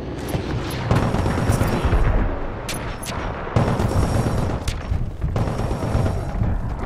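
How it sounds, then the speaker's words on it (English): Rapid bursts of Splitter rifle fire in the video game Titanfall, loud and close, come in several sustained volleys separated by short gaps, with booming impacts and no talk. "Pilot detected. Splitter rifle on target."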